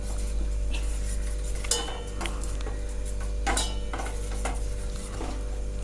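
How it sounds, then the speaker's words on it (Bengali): Katla fish with raw mustard oil being mixed in a bowl, a few soft scrapes and light clinks of a utensil against the bowl over a steady low hum, close and quiet, with no voices. "এবার ভালো করে মিক্সড করে নেব।"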